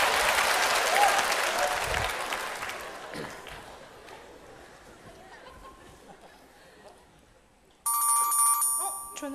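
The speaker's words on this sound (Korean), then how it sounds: "전화 왔네." During a KBS comedy sketch, audience applause and crowd chatter fade, and then a telephone ringtone starts abruptly near the end, loud and close.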